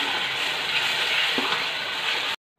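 A tomato and green chilli paste frying in a pan for a Lahori chickpea dish gives off a steady, close broadband sizzle that holds level and then cuts off abruptly, with no voices.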